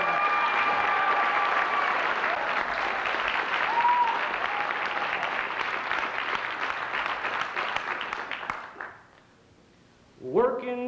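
A crowd applauds a singer, sustained dense clapping for about eight seconds that fades out, followed by a voice starting to speak.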